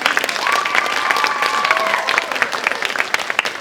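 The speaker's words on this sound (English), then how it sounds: "So let's get a round of applause" A high school theatre audience applauds the cast before the play begins, loud close clapping with a sharp whistle rising above it for a couple of seconds.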